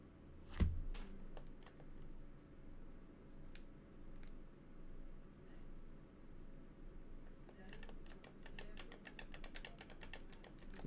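Faint, scattered keystrokes on a computer keyboard during a game-development live stream, quiet irregular clicks that thicken into a quicker burst of typing toward the end, with a low background hum.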